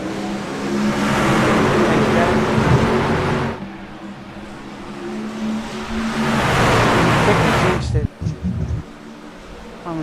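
Racing trucks in a truck-series racing game roar loudly at a green-flag restart, the engine drone swelling and falling in two long waves as they pass, with voices talking over it.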